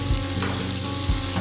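Okra sizzles while it is stir-fried in a pan for a Kannada-style palya, a steady close frying hiss with a couple of soft stirring scrapes.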